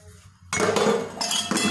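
Dishes, pots and cutlery clattering and clinking in household dishwashing, a dense run of loud metallic knocks starting after a quiet half second and continuing with brief pauses.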